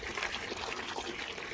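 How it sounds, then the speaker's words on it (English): Water is poured into the tank of a cordless pressure washer, a steady close splashing and gushing stream that continues without a break. "And we're going to go ahead and fill with water."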